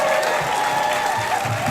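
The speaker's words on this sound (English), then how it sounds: "Have we applauded for Wallace Bain yet?" A crowd at a Santa Cruz rally applauds for Wallace Bain in a brief burst of clapping, with voices mixed in.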